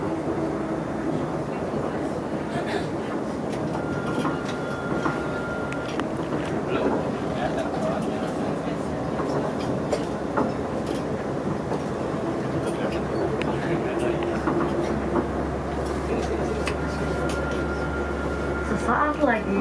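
An airport city train to Jakarta rumbles steadily along the rails with a low, continuous drone, while voices and faint announcements sound over the noise.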